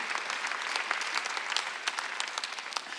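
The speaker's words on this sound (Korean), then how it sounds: "박수하세요." A church congregation breaks into dense, steady applause during a Sunday worship sermon. The clapping is continuous and moderately loud, with no voices over it.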